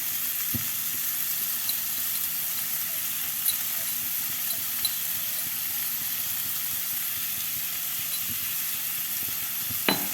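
Crushed green chilli, ginger and garlic frying in a pan give off a steady soft sizzle with a few faint clicks and pops, and no talking.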